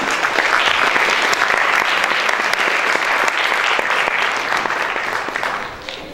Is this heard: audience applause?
yes